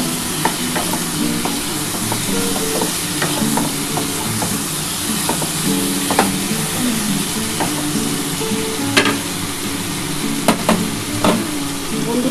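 Tomato sautés in a hot pan with a continuous crackling sizzle, punctuated by frequent sharp clicks and scrapes of stirring, fairly close and steady throughout with no voices.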